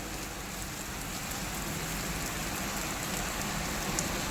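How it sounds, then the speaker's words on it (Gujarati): Heavy rain pours steadily on a rural road in Gujarat near Dundas, a dense continuous hiss with a constant level and no voices. "જો મિત્રો, બહુ જ વરસાદ ચાલુ છે અહીંયા."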